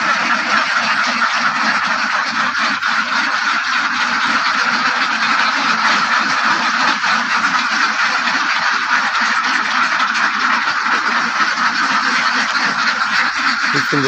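A flock of ducks quacks continuously and loudly up close in a village setting, a dense overlapping chorus of honking calls with no pause throughout.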